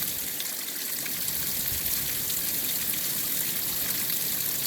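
Water flowing steadily through a hydroponic system, a continuous broadband splashing and trickling wash that holds at an even level throughout, with no talk.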